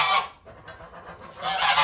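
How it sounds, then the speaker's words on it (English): A gray goose honks loudly and close by, with a harsh burst at the start and another building at the end, no speech heard over it. "Gray Goose. Why is she doing this"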